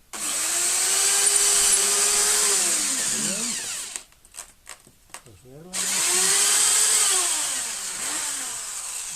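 A power drill bores through polystyrene foam for a homemade fishing float, a loud steady whine that drops out briefly for a few stuttering bursts before running again.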